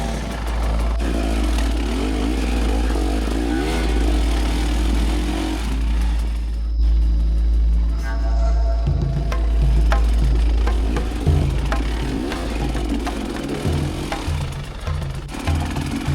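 An enduro motorcycle descends a hill on an active Central American volcano. Its engine drones loudly and continuously, with revs rising and falling and a choppy, stuttering stretch toward the end. No one speaks.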